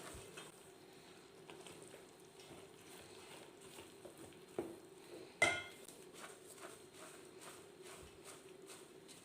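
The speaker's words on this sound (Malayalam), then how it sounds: "നമ്മൾ നേരത്തെ തയ്യാറാക്കി വെച്ചിരിക്കുന്ന ബൂന്തി ഈ പഞ്ചസാര ലൈനിയിലേക്ക് ചേർത്ത് കൊടുക്കുക" Boondi stirred into sugar syrup in a pan for laddu makes faint, scattered scraping clicks and soft clinks, with one sharper knock near the middle.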